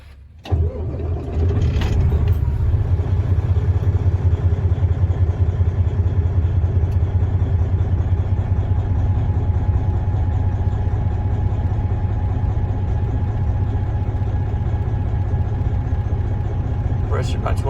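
A 2014 Freightliner Coronado glider-kit day cab truck with a Detroit 12.7-liter diesel engine starts and settles into a steady, loud, rumbling idle close by, while someone talks over it.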